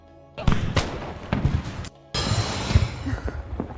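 An anime scene shows a fireworks display, with a series of sharp, punchy bursts and booms. A brief silent gap splits the clip before a denser run of crackling blasts follows.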